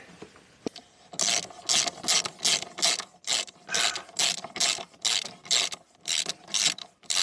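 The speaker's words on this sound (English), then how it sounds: "I'll just drive that home till I get the new one in the bottom" A ratchet drives a bolt home on a broken-down bike, giving a dozen or so regular bursts of rapid pawl clicking, each a second or less, close and crisp with short pauses between strokes and no speech.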